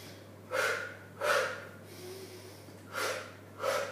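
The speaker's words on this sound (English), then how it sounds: "it's a double pulse exhale breath" Sharp nasal exhales come in paired pulses during a Pilates ab exercise on the mat, two quick bursts, a soft inhale, then two more, close and fairly quiet over a low steady hum.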